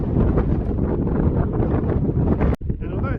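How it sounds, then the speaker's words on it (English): Strong gusty wind buffets the microphone outdoors in open countryside on an overcast, chilly day, a steady loud roar with a brief sharp break near the end. "And although it's a bit windy,"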